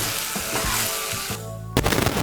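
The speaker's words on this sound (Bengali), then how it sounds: "মিশিয়ে নিয়ে সুজিটাকে আরেকটু ভেজে নেব।" Semolina tossed with winter vegetables crackles and sizzles steadily in a pan for a jhal suji, with a brief scrape or stir near the end.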